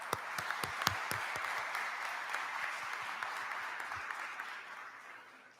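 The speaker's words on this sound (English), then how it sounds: "Please help me give a round of applause to our Professor Emeritus, Carl Moman, for that beautiful, beautiful organ prelude music." Audience applause at a 2021 commencement ceremony after an organ prelude, a soft, fairly distant wash of many hands with a few crisp nearby claps early on, tapering off gradually.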